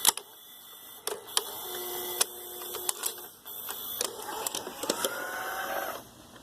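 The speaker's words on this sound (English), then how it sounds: "pay attention to the loading motor assembly" A Goldstar VCP-106M VHS player's loading motor mechanism whirs and shifts between modes, with mechanical clicks, clunks and a rising motor whine close by, and no talk.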